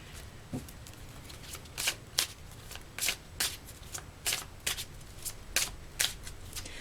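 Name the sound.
shuffling tarot cards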